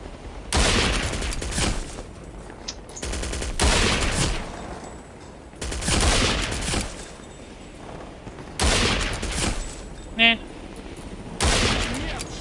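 Automatic gun turret firing in the video game Counter-Strike: Condition Zero, loud repeated bursts of rapid gunfire roughly every two to three seconds, each burst lasting about a second, with a brief mechanical chirp between volleys.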